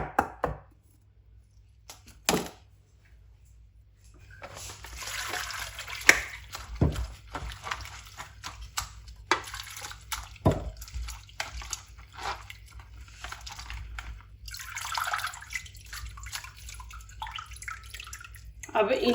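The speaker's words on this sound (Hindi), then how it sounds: "अब आलूओं को भी आपने 2-3 पानी धो लेना है।" Potatoes are rinsed by hand in a pot of water, with a few rounds of splashing, sloshing and dripping at close range, broken by pauses and quiet handling noises, and a voice talks at times.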